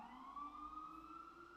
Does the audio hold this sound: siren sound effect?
yes